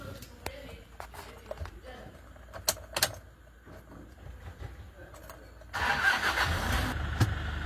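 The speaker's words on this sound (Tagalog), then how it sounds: "Subukan natin paanda rin kung iilaw ba siya" A 2012 Toyota Innova with an EGR fault has a few clicks and a faint voice, then its engine cranks and catches, settling into a steady, close running hum.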